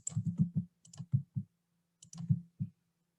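Minecraft sticky piston pushing and retracting blocks in the video game, a series of short dull mechanical clicks in two quick bursts with a pause between, close and clear.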